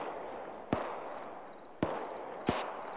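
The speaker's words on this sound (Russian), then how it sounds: "Они не понимают, что ли, что по ним стреляют?" Three sharp, isolated gunshots from ARMA 3 crack out at irregular intervals against a quiet outdoor background, each one short and somewhat distant.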